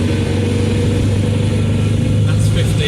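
A VW Type 1 1600 single-port engine fitted with Weber ICT carburettors pulls the car along in fourth gear, a loud, steady engine drone that lasts the whole stretch with no break.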